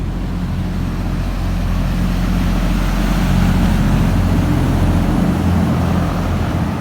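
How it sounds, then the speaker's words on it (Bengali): A passenger boat approaching on a lake in Bangkok, heard as a steady low engine rumble under broad wash and water noise that swells slightly midway, with no talk. "দেখুন একটা বোট আসতেছে"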